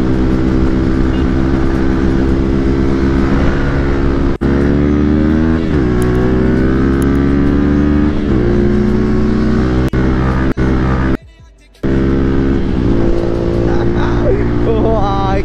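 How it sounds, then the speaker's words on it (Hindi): A Bajaj Dominar motorcycle's engine drones loud and close with a deep, bassy exhaust note, revving up and down repeatedly on the road, with one brief dropout midway. "डोमिनार की ना फुल बेस वाली आवाज आती है।"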